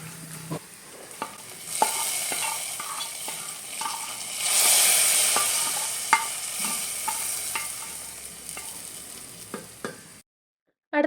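Fried shallot tempering hits a curry with a sizzle that swells in the middle, accompanied by scattered spoon clicks and stirring taps before falling silent at the end.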